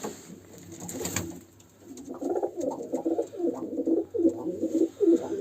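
Pigeons in a coop give soft, throaty coos in repeated rolling phrases, close and clear, after a brief rustle and clatter of movement at the start.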